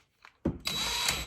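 A power drill gun tightens down onto a NOSERING cutter: a brief click and thump, then a steady whirring motor spin lasting under a second, close and fairly loud.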